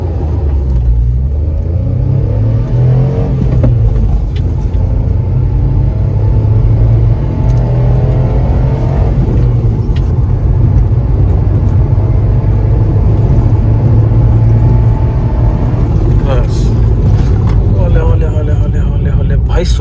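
A VW Polo 1.2 petrol hatchback accelerates hard from a standstill toward 100 km/h, with a loud engine drone rising through the gears, heard from inside the cabin while people talk over it.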